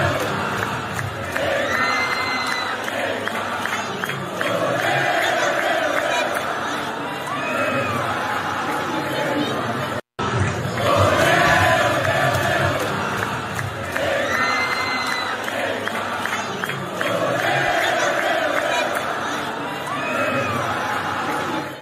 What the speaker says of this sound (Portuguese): E aqui o Neymar ovacionado pela torcida